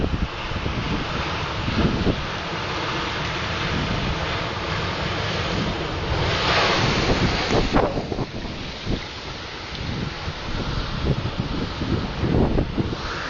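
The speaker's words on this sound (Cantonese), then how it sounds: "海面上捲起極巨浪㗎啦" Large waves crash onto a shore in strong wind along a Hong Kong coast during a typhoon storm surge, a constant roar of surf and wind buffeting the microphone with heavier surges near the middle and end, and no voices.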